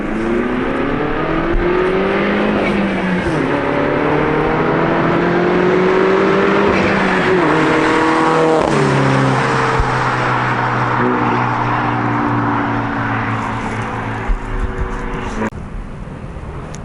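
A fully modified Mini Cooper roars loudly as it accelerates past, its engine note climbing through several gear changes with wavering harmonics, then fading slightly as it moves away.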